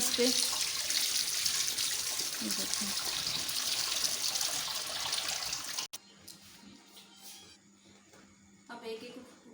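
Cold tap water poured over boiled lasagna sheets sitting in a strainer in a home kitchen, a steady hissing splash for several seconds that abruptly stops, followed by someone talking over quiet room tone.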